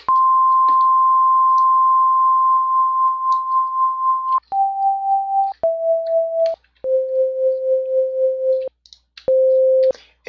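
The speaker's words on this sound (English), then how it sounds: "So if I select it, you will hear a what they call a tremolo effect." Chiptune synth tone playing a few steady electronic notes that step downward, with a tremolo effect switched on partway through so the volume pulses rapidly. The sound is loud and close, and no one speaks.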